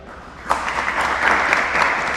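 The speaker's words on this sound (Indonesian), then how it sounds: "Oke, tepuk tangan dulu buat Torik." Students in a classroom give a short round of applause, clapping starting abruptly and continuing as a fairly loud, steady patter of hands.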